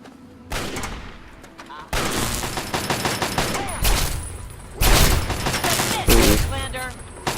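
Gunfire from a turret in the video game Fallout 3, with bursts of rapid shots that come in several waves and stay loud and close throughout, with battle noise and some voices mixed in.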